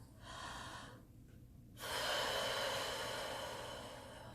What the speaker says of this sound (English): After you get used to taking that deep breath,